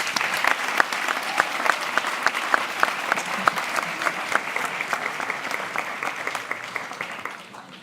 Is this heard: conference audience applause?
yes